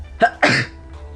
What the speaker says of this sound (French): Il fait tellement chaud que j'éternue.